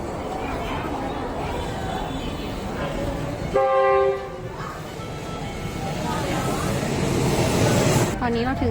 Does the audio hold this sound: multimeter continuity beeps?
no